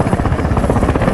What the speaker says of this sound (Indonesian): berangkat menggunakan helikopter